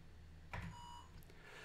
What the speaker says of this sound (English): then the computer will beep at you